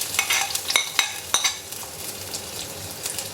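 Onion drops into hot oil with browned fenugreek seeds for a ribbon fish curry, giving a steady close sizzle broken by sharp spoon clinks and scraping stirs against the pan.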